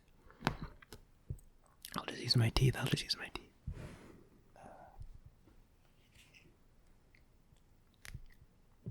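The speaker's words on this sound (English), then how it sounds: "I didn't bring my scissors. I'll just use my teeth." Sewing thread bitten through with teeth instead of scissors during a quiet sewing session, heard as a few close, crisp snapping and chewing clicks amid soft whispering.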